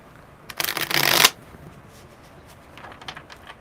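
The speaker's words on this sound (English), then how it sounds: "one more good shuffle" A quick burst of tarot cards being shuffled up close, a crisp riffle lasting under a second, followed by quieter handling of the deck.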